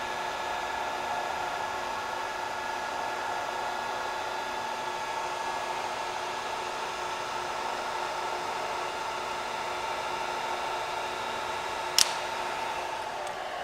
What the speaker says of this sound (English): Here you can see the feed is engaged.